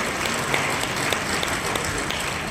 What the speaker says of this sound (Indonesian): Tepuk tangan untuk teman-teman sineas.